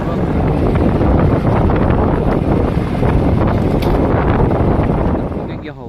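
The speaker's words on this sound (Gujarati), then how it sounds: "વાડી જો માં હે ને અલર હાલે છે" A groundnut thresher mounted on and driven by a tractor at a farm during the peanut harvest churns with a loud, continuous rumbling roar, close to the microphone, with someone speaking over it.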